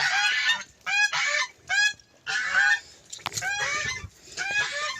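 Toulouse geese honk loudly and repeatedly in a series of harsh, nasal calls with short pauses between bursts, close by.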